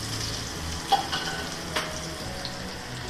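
Spices fry in a pan with a soft, continuous sizzle, punctuated by a few light clicks of stirring.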